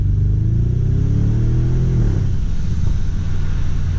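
An Audi RS6, fitted with snow tyres, revs hard: a loud, close engine note climbs steadily for about two seconds, then drops back to a deep, rumbling idle that carries on without any talk.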